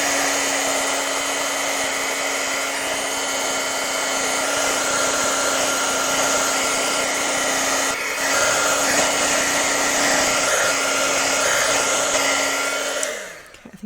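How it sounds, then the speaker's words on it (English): An electric heat tool blows hot air to set embossing powder on a paper card, a loud, steady whirring hum with a constant whine that runs unbroken before switching off at the end. "All right, so I'm gonna set this now with the heat tool."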